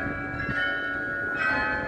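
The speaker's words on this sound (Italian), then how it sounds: "è partito il carillon" Carillon bells play at Marienplatz in Munich, bright sustained tones ringing steadily across the square with a loud swell near the end, crowd ambience beneath.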